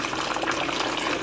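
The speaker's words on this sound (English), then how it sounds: "So, I'm going to put water in this right now." Water pours into a coffee maker in a steady, close, hissing stream with no break and no talking.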